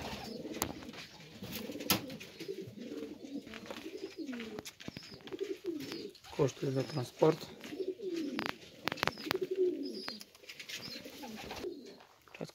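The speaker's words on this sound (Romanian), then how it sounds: "Uitați câțiva și pe afară porumbei." Pigeons coo outside at a rabbit farm, soft repeated throaty calls running through the whole stretch, with occasional chirps and bumps nearby and a person talking briefly over them.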